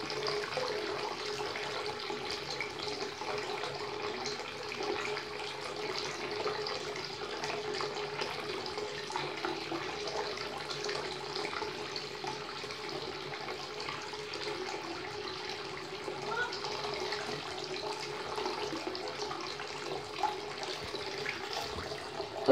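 Water runs steadily from a tap into a bathtub, a constant, moderately faint rushing splash that holds unchanged for the whole stretch.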